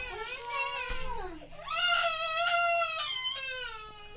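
A young child cries and wails in long, strained, sobbing bursts with a brief catch of breath between them, loud and close, heard alone with no one speaking over it.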